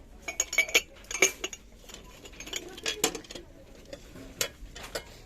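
Light clinks and taps of porcelain dishes knocking together, scattered and irregular, fairly close but quiet, with short pauses between small clusters.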